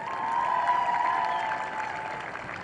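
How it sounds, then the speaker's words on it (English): A crowd at a women's football cup match between Box Hill United and Calder United applauds the team, a sustained, moderate patter of clapping with a faint tone running underneath. "Can you please give the entire team a round of applause?"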